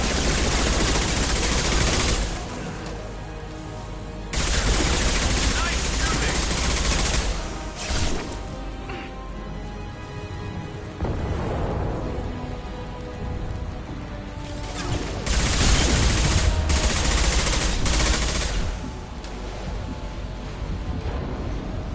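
Video game gunfire crackles in loud, dense bursts and volleys that stop and start across the stretch, with no talking over it.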